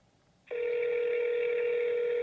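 A phone call rings out: after a short quiet moment a loud, steady ringback tone starts and holds without a break.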